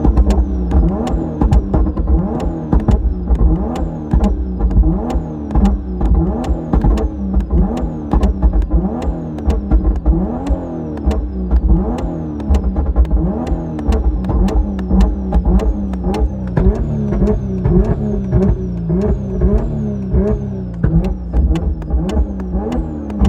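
A warmed-up BMW B58 engine revved with steady, repeated throttle blips at close range, a throbbing mid-pitched exhaust note rising and falling in a regular rhythm throughout, with sharp pops over the top.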